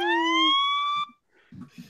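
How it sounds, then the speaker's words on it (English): A siren sound effect from a phone app gives one rising electronic wail for about a second and then cuts off, followed by brief murmurs and room noise. "Siren Sounds app"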